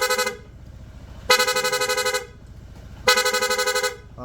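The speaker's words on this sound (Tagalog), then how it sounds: "Busina." A Honda ADV160 scooter horn sounds three times, each a loud, bright honk of under a second, spaced about a second and a half apart with quiet gaps between.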